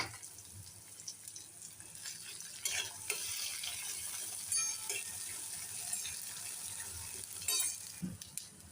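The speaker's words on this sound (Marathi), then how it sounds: "आता यामध्ये आपण टोमॅटो घालूया." Chopped tomato sautéing with fried onions in a pan, giving a soft, steady sizzle with occasional stirring scrapes, faint and close, with no talking.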